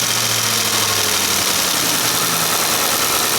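Idling Ford F150 engine with a clacking noise near the intake manifold, a steady mechanical rumble with a fine repetitive ticking texture, close and continuous with no voices.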